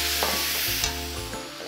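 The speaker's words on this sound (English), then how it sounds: "Into this pan, I'm just going to add that soy marinade." Soy marinade hitting a hot pan, a brief loud burst of sizzle that settles into bubbling hiss, close and without any voices.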